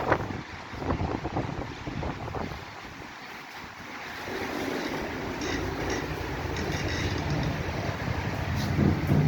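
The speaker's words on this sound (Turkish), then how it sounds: "hem de çok şiddetli rüzgar gitgide artıyor" Very strong gusting wind outdoors, a loud continuous roar that rushes and swells, dipping briefly before building steadily louder, with no talk over it.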